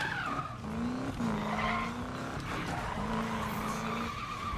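Tires skidding on a hot rod truck in the Need for Speed (2015) video game, a sustained squeal over steady engine drone, with a few pitch-shifting slides running continuously through the short stretch.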